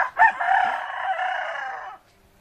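A large rooster at a Mabini town fiesta gives one loud, drawn-out crow close by, opening with a sharp rise and holding a strained tone for about two seconds before stopping.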